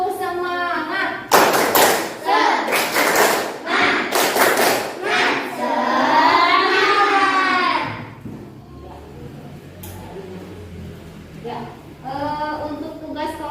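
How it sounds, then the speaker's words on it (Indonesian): A group of people in a classroom claps in rhythmic bursts for a 'tepuk semangat' ice-breaker, with close, loud thumping claps between stretches of talking and chanting voices. "Yuk kita ice breaking lagi dengan tepuk semangat."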